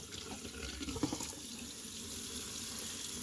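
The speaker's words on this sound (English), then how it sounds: "Just have your water running." Tap water runs steadily into a sink while tomato seeds are rinsed in a strainer, a constant close wash of water with small splashy variations.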